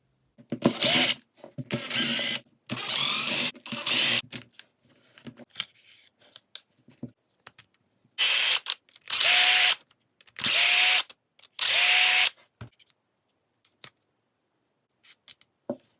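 Power driver spinning out bolts from an RC car axle housing diff cover, several short bursts of close, loud buzzing whir separated by quiet pauses and small clicks of parts being handled.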